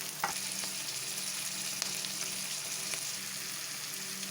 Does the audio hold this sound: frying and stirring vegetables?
yes